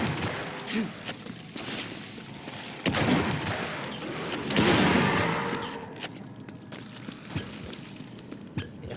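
Gunfire in the shooter WRATH: Aeon of Ruin, a series of sharp bursts and heavier booms with crashing, shattering tails, mixed with other game noise and a voice talking over it.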